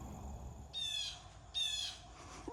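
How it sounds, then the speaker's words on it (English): A loud bird squawking outdoors in a garden, two harsh, drawn-out calls about a second apart, close and clear over quiet background. "I've got a very loud bird squawking here"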